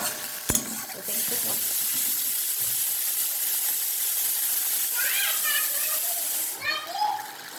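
Boiled onion and chili paste tipped into a hot pan for a doi katla curry, a sudden loud hissing sizzle that holds steady for several seconds with a few clinks, while someone talks intermittently over it.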